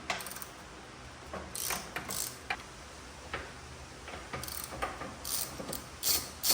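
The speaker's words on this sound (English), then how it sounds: "You need a 10 millimeter long, and I mean long, socket to be able to get that off." A 10 mm long socket on a ratchet removes screws during a Honda Civic cold air intake install, giving quick runs of close, crisp pawl clicks in several short bursts with pauses between them.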